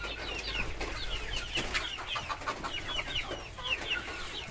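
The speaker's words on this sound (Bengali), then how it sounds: "এগুলো হলো আমার অরিজিনাল দেশি মুরগি।" Native desi chickens cluck in a small backyard farm at feeding time in the morning, several birds calling in overlapping bursts at close to moderate range over steady outdoor background noise.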